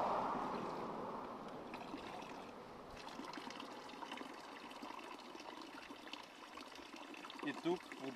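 Water pours from a roadside drinking fountain along the mountain road from Gyovren to Trigrad in the southwestern Rhodopes, a steady close splashing trickle that runs continuously throughout.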